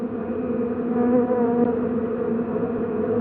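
Steady, continuous buzzing of bees on an alfalfa farm, a dense droning hum with no voices.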